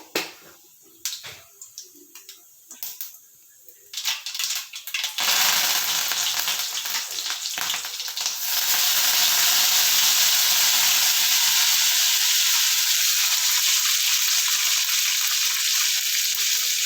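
Mustard seeds and cumin frying in hot oil in a home kitchen while making palya for a dosa breakfast. A few sparse pops and clicks open the clip, then a loud, dense, steady sizzle builds and holds close up to the end, with no talk.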